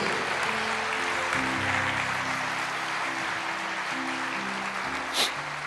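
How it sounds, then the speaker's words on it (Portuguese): A church congregation claps in praise during a worship service, an even, moderate wash of applause over sustained organ or keyboard chords, with a brief sharp accent near the end. "Eu só peço que aplauda ao Senhor."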